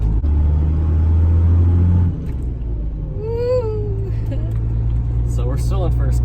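A 12-volt ride-on toy car fitted with a ratchet shifter runs in first gear, giving a loud, steady low motor rumble that drops to a quieter hum after about two seconds, with excited voices talking over it.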